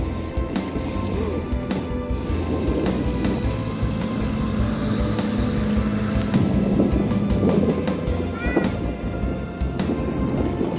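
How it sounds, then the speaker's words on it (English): Boats rumble past on the water, a steady low engine drone that swells and lingers with a continuous wash of noise. "Look at the boats coming."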